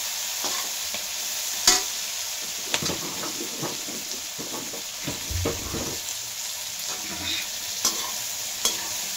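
Vegetables and fenugreek leaves fry in hot oil for a mix veg biryani, a steady sizzle under repeated scraping and stirring strokes, close and moderately loud with occasional sharper clanks of the spoon against the pan.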